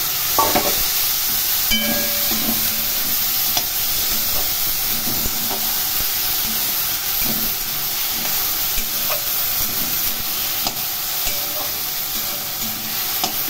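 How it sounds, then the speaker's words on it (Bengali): Okra and potato pieces fry in a pan with a constant loud sizzle and hiss, while a utensil stirs and scrapes them with intermittent clacks against the pan, close by and without talking. "নাড়াচাড়া করে ভেন্ডিগুলো ভেজে নেব।"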